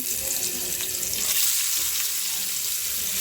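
Rohu fish pieces frying in hot oil give off a continuous loud hiss and sizzle, bright and broadband, steady throughout with no pauses.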